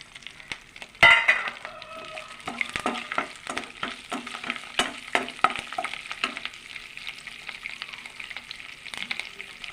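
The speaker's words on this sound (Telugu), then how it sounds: "ఇవ్వండి పోపులు వేగిపోయినాయి" Tempering spices and garlic sputter in hot oil in a kadai, giving a steady close crackle broken by sharp pops and intermittent stirring clinks, with no voices.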